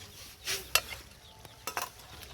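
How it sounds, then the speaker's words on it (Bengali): Mutton cooking in a pan, with a few brief scraping stirs and soft clinks of a utensil against metal over a faint background, fairly quiet and sparse. "প্রথমবার আমি রান্না করছি খাসি মাংস"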